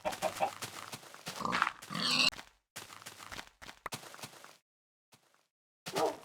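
Pigs in a video game grunt and oink in several choppy bursts, loud and near, broken by short silences, with one last grunt at the end; nobody talks.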